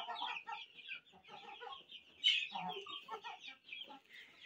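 A Bolu rooster clucking repeatedly at close range, with a louder squawk in the middle and other fowl noises around it.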